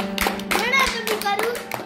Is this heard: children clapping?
yes